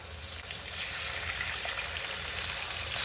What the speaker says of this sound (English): We'll saute them till they are slightly softened, not too dark brown.